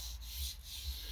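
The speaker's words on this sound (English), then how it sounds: "now we fine sanded it" Wood is being fine-sanded by hand, giving a soft, close rasp of two or three back-and-forth rubbing strokes in a short burst.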